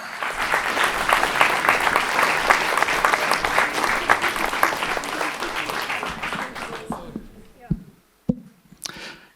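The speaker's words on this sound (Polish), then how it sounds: "Ale brawa!" An audience at a stand-up comedy show applauds loudly with dense, sustained clapping that gradually fades out, leaving a few scattered claps and murmurs.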